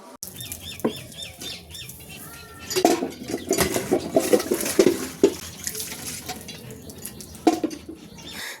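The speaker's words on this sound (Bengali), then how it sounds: "তো এখানে দেখো তাড়াতাড়ি করে কাপড়গুলোকে এখন ধুয়ে নিচ্ছি" Clothes being washed by hand, with wet slapping, splashing and clattering bursts that come close and loud in irregular clusters between quieter stretches, and faint bird chirps in the background.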